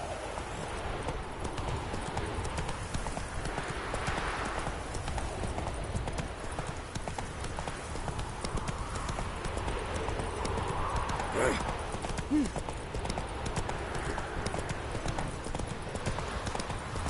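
Hooves of the horse Roach from the video game The Witcher 3 beat a steady, rapid clip-clop rhythm for the whole stretch, moderately close, with a soft ambient bed behind and no clear talk over it.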